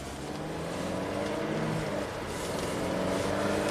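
A 2016 Mercedes GLA250 turbo with 236k miles and an oil leak accelerating, a steady moderate engine drone heard from inside, holding even and slightly building with no talking.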